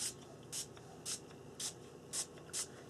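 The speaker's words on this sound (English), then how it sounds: "I'm just going to spray it onto my journaling page because it needs a little bit of color." Dylusion ink spray misted onto a mixed media journaling page in six short, even bursts with brief pauses between them, fairly close and alone.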